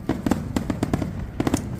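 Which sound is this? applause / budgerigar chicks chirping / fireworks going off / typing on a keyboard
fireworks going off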